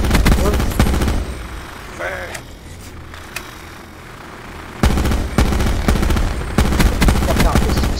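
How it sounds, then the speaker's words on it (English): Bursts of rapid automatic gunfire from a first-person shooter match in Black Ops 4, loud clusters at the start and again in the second half, separated by a quieter stretch, with a player's voice talking over the game at times. "stop shooting, guys"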